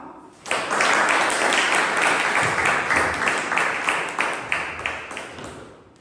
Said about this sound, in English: Please join me in giving a big round of applause as we welcome Anup Kumar